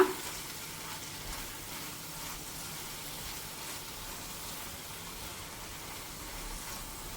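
Mushroom gravy is stirred in a pan as it simmers, oil separating at the sides. A steady, fairly faint sizzle and scraping run without a break under the stirring, and no one speaks.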